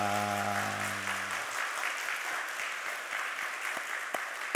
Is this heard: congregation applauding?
yes